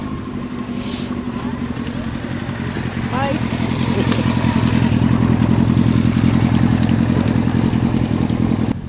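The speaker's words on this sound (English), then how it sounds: "This guy on a motorcycle." A motorcycle passes by a harbor in the Faroe Islands. Its engine hums steadily, then swells louder and closer over the final seconds, and a short spoken greeting comes early on.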